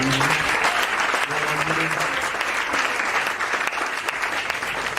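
A church congregation applauds loudly and continuously, dense clapping filling the room, with voices calling out beneath it and a few low sung or spoken tones early on.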